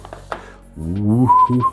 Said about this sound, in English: Sorry for the whistling there.